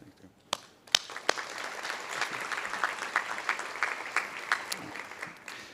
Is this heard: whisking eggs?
no